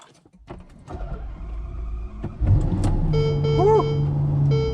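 A 2019 Ferrari GTC4 Lusso starts up: cabin clicks and chimes, a brief crank, then the engine catches and settles into a steady, loud idle with electronic beeps over it.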